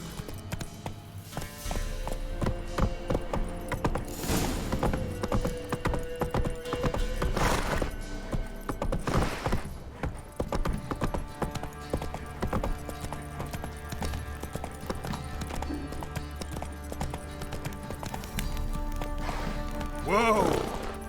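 Horse hooves clip-clop and gallop across open ground in the game Witcher 3: Wild Hunt, a steady rhythmic pounding under music and game sounds, with a whinny and a voice briefly heard.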